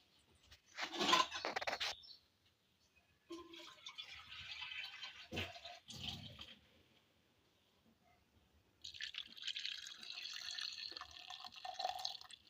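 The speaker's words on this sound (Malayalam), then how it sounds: "ഇനി നമുക്ക് കുറച്ച് വെള്ളം ഒഴിക്കണം" Water pours in a few separate bursts with quiet pauses between, a thin splashing trickle close by.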